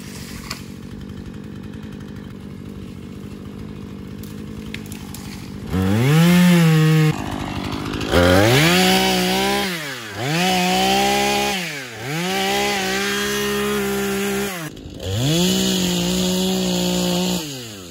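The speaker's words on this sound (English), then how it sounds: "I got a new chainsaw, thing cuts amazing." New chainsaw cutting down trees for posts and firewood, starting after quiet ambience and then revving loudly in four or five long cutting bursts separated by brief drops in engine pitch.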